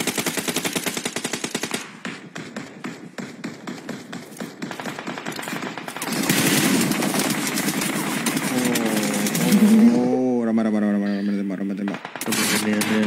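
Rapid automatic gunfire crackles in dense bursts as several players shoot at once in a mobile battle royale scrim, with players talking over it and a musical tone rising near the end.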